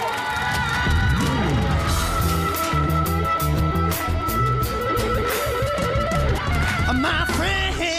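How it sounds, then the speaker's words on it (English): A live audience at an America's Got Talent season 1 semi-final cheers and applauds loudly for the act the Millers, with whoops and yells running continuously over bright, tonal music for the whole stretch. "round of applause for the Millers"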